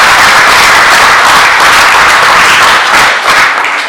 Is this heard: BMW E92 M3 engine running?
no